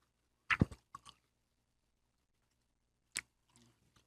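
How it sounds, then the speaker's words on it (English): Someone bites into and chews a piece of Halloween candy, giving a few short crunchy bites close up, then a pause before one more bite and faint chewing. "I'm done chewing that"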